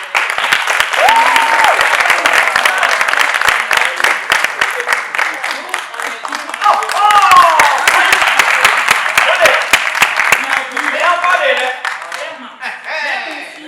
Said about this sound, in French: s'il vous plaît, applaudissez pour